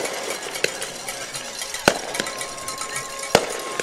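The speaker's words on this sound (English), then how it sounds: "We've got some fireworks going off" Fireworks go off at a high school football game between Bunkie and Jena in Louisiana, with two sharp distant bangs and a few fainter pops over the low murmur of the crowd.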